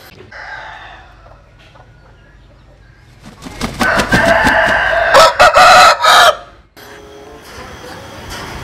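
A rooster crows loudly and close in the middle of the clip, one long ragged cock-a-doodle-doo with a few clucks, set between quieter stretches of background noise.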